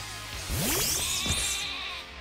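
A sheep Pokémon bleats in Pokémon Sword, two wavering, sweeping electronic bleats in quick succession, fairly loud and alone over a faint background.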